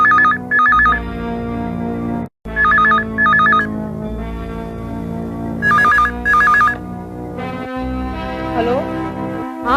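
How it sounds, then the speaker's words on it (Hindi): A telephone rings in repeated short bursts of bright electronic trills separated by brief gaps, loud and close, set over a background of music. "ये फोन को भी अभी आना था।"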